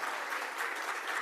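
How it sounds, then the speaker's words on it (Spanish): Audience at a medical symposium on hypertension drugs applauding a sponsor, a short, soft and steady patter of clapping heard from some distance. "Un aplauso aquí también a Armstrong,"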